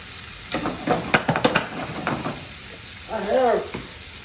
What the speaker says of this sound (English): we got a nice sizzle on that